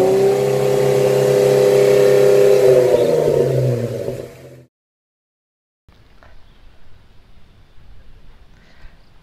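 A Lexus LX 570 SUV engine revving loudly up close, with a rising then settling tone for about four seconds before cutting to silence, followed by faint low background rumble.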